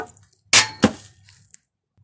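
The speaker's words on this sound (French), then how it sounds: "le bouchon est tombé" A steel engine oil drain plug dropping during an oil change, landing with two sharp metallic clinks close together and then a small faint tap, with quiet surroundings in between.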